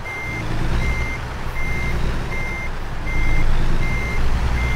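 Regular reversing beeps from a truck backing a trailer in American Truck Simulator repeat at an even pace over a deep, steady engine drone, with no speech.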